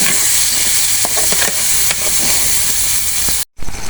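Dried bata fish fries in a spice paste for a potato dish, giving a loud, steady, close sizzle with crackling pops and stirring scrapes, broken by a brief moment of silence near the end.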